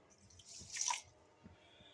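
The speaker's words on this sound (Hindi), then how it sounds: "थोड़ा सा पानी शामिल करना" A small splash of water goes into sugar in a wok on a stovetop, giving one brief liquid hiss and splash followed by a few faint drips.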